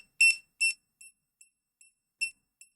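A Raspberry Pi Pico project's buzzer gives a series of high electronic beeps, the first two long and loud, the rest shorter and fainter, evenly spaced and clear against silence.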